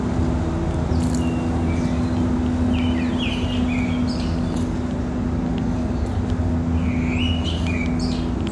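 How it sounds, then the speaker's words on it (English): Birds chirp in short bright calls scattered over steady outdoor rumble and hum near the Augrabies falls in South Africa, the calls moderately faint and intermittent throughout. "Listen to the birds."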